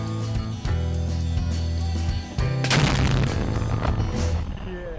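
A controlled detonation of a buried IED-type bomb during bomb clearance work, heard as one sudden loud blast that follows a steady droning background and then rumbles away with a long noisy tail.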